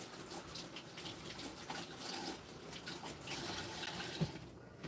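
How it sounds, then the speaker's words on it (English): Tap water runs steadily over a kitchen glove at a sink, a continuous close splashing rush throughout with no talk. "I just want to wash this glove off."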